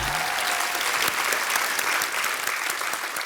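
Steady, loud audience applause fills a comedy show studio as actor Randeep Hooda is welcomed on stage, a dense wash of clapping that holds evenly throughout.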